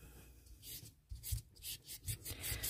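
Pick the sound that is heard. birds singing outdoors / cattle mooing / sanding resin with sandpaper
sanding resin with sandpaper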